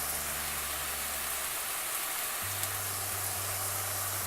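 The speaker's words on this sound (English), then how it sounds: "Saute these nicely for a minute. Don't let the spices burn." Spices (turmeric, chili, coriander powder and pepper) sautéing in hot oil for an urad dal curry, a steady close sizzle and hiss that holds evenly throughout with a low background hum.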